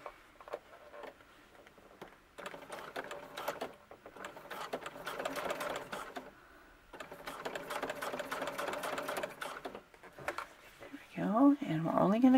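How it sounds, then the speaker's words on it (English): A sewing machine runs in steady bursts while top stitching close to a seam on a green coat, pausing between runs, with a brief clatter at the end. "I'm going to top stitch right next to the seam and keep that in place."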